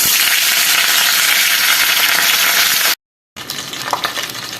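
A fish head seasoned with salt and turmeric fries in hot oil, giving a loud, dense sizzle that cuts out briefly, then resumes more softly with a few crackles.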